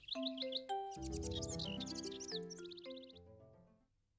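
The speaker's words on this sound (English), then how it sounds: "There's a little bird eating the breadcrumbs we left out" A small bird at a bird table, eating breadcrumbs, chirps in quick high notes, with a melodic chiming run behind it that fades out after about four seconds.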